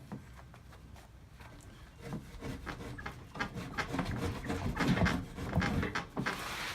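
Sanding along the edge of a black willow wood mantel, a rough rasping rub in repeated back-and-forth strokes that grows louder and denser toward the end, close by.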